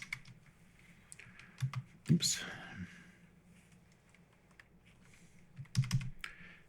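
A Google search being typed on a computer keyboard: quick runs of key clicks with short pauses, close and fairly clear, with a soft voice murmuring alongside.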